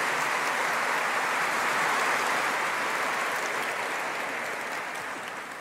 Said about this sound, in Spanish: Démosles un aplauso a los servidores de esta Eucaristía.